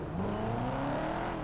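A Jaguar sports car engine revs in the GTA 5 video game, a short, loud, steady rising whine from close by.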